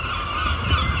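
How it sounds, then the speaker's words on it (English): Noisy birds call continuously and loudly on a street in England, with bright honking, squawking cries layered close over traffic-like background rumble and no talk. "God, those seagulls are noisy."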